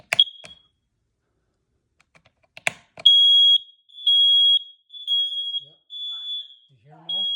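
Several newly installed smoke alarms sounding together during a test, piercing high beeps in repeated bursts after a few clicks, fairly close and loud, with a voice briefly at the end.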